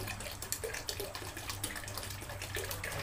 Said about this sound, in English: Okay, so put our water back